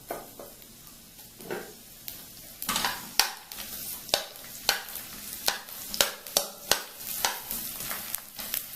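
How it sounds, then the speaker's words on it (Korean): Half an onion stir-fried in olive oil over low heat, a steady sizzle broken by a run of sharp spatula scrapes and taps against the pan that grow regular toward the end, close and moderately loud. "양파를 반 개 정도 볶아주시면 됩니다"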